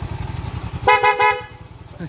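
A 2017 Yamaha Mio Soul i scooter engine idles with a steady putter, then its horn beeps twice in quick succession before the idle carries on.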